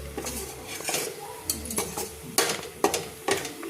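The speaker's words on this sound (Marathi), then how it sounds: "एकीकडं माझं बेसनही हलवायचं काम चालू आहे." A utensil stirs besan (gram flour) in a metal pan, giving quiet, irregular scrapes and sharp clinks of metal on metal, several in quick succession, with no voices.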